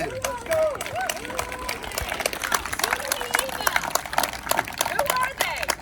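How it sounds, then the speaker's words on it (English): Crowd at a hockey arena political rally clapping and cheering loudly and continuously, with shouts and voices mixed through the dense applause. "a big round of applause"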